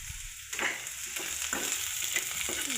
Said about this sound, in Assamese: এই তিতকেৰেলা ভাজি আছোঁ বৰ্তমান